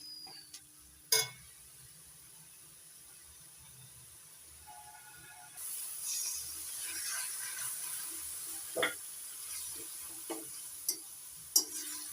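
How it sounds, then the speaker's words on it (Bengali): Spice paste for a pomfret curry frying in oil, a low, steady sizzle with a few sharp clinks and scrapes of a utensil against the pan, close and fairly quiet. "মশলা ভালো করে ভেজে নিয়েছি তেল ছেড়ে দিয়েছে"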